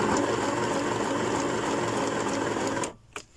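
A sewing machine runs steadily for almost three seconds, its fast motor whir and needle chatter stitching a fabric tag onto a fabric page, then stops abruptly, leaving quiet with a faint click.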